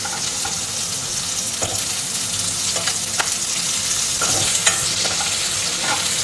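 Food fries golden in a pan during a home-style cooking session in Chikmagalur. A close, loud, continuous sizzle is heard with irregular scraping and clacking as a spatula stirs, and no talking.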